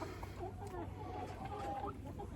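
A hen clucks and murmurs softly while being handled, a few short warbling calls over low rumbling background noise, faint and close.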